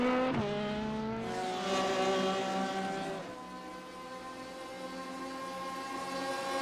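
Race cars on the long-wheelbase Porsche field cornering through turn 1 at Monza in iRacing, engines whining through downshifts and then climbing in pitch as they accelerate out, loud and close with several cars overlapping.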